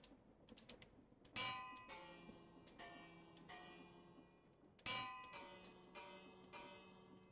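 Two loud metallic bell strikes in the Minecraft video game, each a sharp clang with a long ringing decay, separated by about three and a half seconds over faint ticking and clicking.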